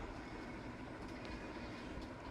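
A train rolls past in the Roblox video game, a steady, dense rumble and rattle that holds at even loudness through the whole stretch with no voices over it.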